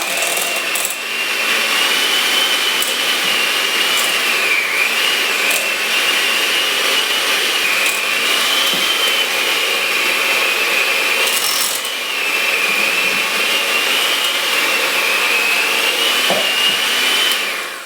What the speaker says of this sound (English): Keep your blades in the bowl till it gets blended, so start on low.